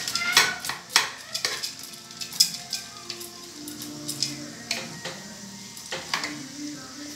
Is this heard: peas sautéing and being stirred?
yes